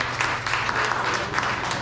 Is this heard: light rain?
no